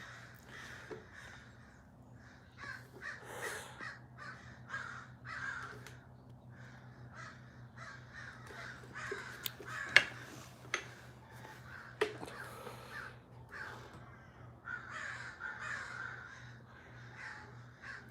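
Crows caw repeatedly at a moderate distance, harsh calls coming in irregular bursts over a low steady background hum.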